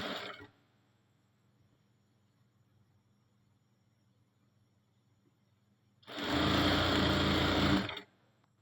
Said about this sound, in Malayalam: ഈ ലൈന് ലൈനിൽ തന്നെ സ്റ്റിച്ച് ചെയ്തുകൊണ്ട് വരണം